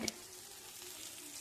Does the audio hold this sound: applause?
no